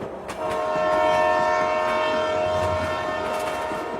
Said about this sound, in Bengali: দেখতে দেখতে ট্রেনের গতি মন্থর হয়ে এলো।